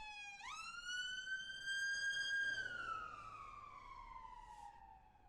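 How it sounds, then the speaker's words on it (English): An ambulance siren on a bridge in Halifax wails loud and close as one long sweep that rises, holds, then slowly falls in pitch as it passes, with no talk over it. "We got an ambulance coming up."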